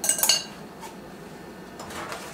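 Metal kitchen utensils clinking as a whisk is swapped for a Swedish dough hook, a quick burst of bright rattling clinks at the start, then quieter handling noises.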